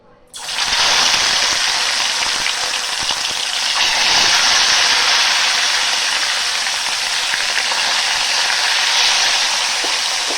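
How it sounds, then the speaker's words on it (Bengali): Fish pieces fry one by one in mustard oil in a wok, a loud, continuous sizzling hiss that bursts in abruptly and then holds steady throughout, close up with no voices. "एबार एकटा करे माछ आमी भेजे नेब"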